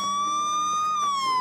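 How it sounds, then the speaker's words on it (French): A mobile phone's remotely triggered siren alarm wails loudly and steadily, a rising and falling electronic tone that plays alone and close up. "on peut aussi faire hurler le téléphone, donc on met en place une sirène"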